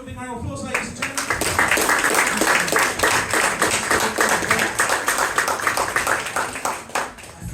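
An audience at a hypnosis show at the Colchester Fringe breaks into loud, sustained clapping that lasts the whole stretch, dense and close, with voices mixed in underneath.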